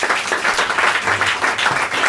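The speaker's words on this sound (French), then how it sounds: "Ok, on applaudit bien fort," An audience at an improv theatre show in a bar claps loudly and continuously, a dense wash of applause filling the room.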